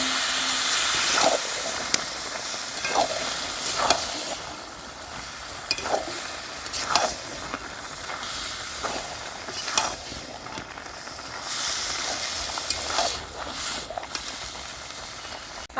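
Boiled vegetables stirred and fried in an oily spice paste in a pan, a steady sizzle and hiss with repeated scraping stirs at a slow rhythm.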